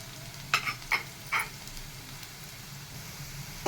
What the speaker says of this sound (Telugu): ఉల్లిపాయ వేగుతుందండి, ఇది బాగా వేగిందాక ఉంచుకుందాం